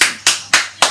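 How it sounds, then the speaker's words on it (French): Four sharp, loud hand claps spaced evenly and close by, applause during a French live stream. "Alors, on applaudit."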